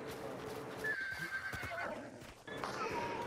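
A horse whinnies in the game Hunt: Showdown: one long, high neigh rings out over a background of gameplay noise, followed by clip-clopping hooves and a second shorter whinny near the end.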